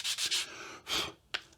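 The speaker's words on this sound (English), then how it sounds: "I'm gonna get all the sanding done at this point" Wood being hand-sanded on box parts before assembly, heard as several close, rasping strokes in quick succession, then one longer stroke and a short final swipe, with no talking.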